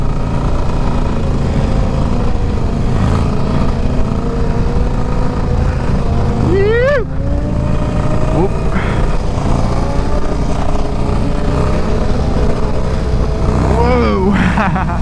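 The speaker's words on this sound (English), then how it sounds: "These sport bikes are just mobbing though." A group of sport motorcycles rumbles and revs close by on a group ride, with engine notes rising and falling under steady conversation and a few shouts.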